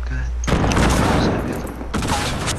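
Loud, dense bursts of video game gunfire crackle in two close volleys, with a brief lull between them, filling the short stretch almost without pause.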